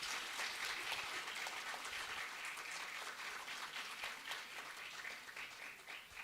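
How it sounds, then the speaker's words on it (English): An audience at a national award festival for college social work claps for a visiting principal; dense, steady applause runs throughout at a moderate, slightly distant level. "Please clap for sir."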